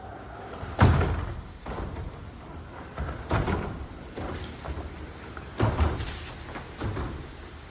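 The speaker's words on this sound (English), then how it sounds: "Actually, a highlight here, pretty cool retractable door." Retractable door in a fitness studio being moved, giving several hollow thumps and slams with rolling rumble between them at uneven intervals, fairly quiet overall.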